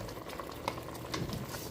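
Pot of pork sinigang broth simmering, soft continuous bubbling and popping at low volume, close and unbroken, with no voices over it.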